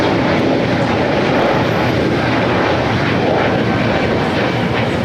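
Spirit Airlines Airbus A320neo departing for San Antonio, a loud, continuous full-throttle jet roar that stays strong and close throughout, with no voices over it.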